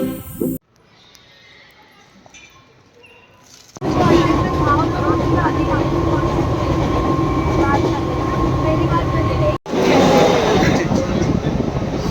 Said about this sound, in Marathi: आम्ही दादरवरून ट्रेन पकडली आहे बँड्राला जाण्यासाठी